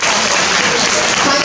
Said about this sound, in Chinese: 我们的张翠云科长哈也应该给他一个掌声了哈。